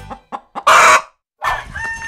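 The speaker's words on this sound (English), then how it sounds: "Random bird just chilling out." A backyard chicken clucks in several short bursts, then lets out a louder, drawn-out squawk, followed by more clucking nearby.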